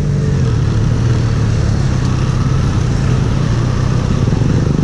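A Benelli Leoncino 500 Trail, a large manual motorcycle, rides through traffic with a loud, continuous engine drone and wind rush, steady and close throughout, with no speech.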